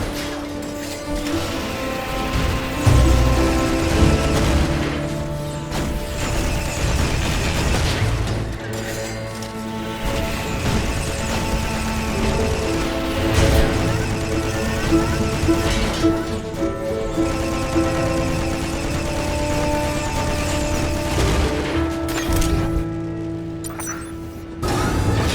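Missile turret combat in the twin-stick shooter RiftStar Raiders, with steady crashing explosions and booms layered over a continuous music bed for about 25 seconds, no talk.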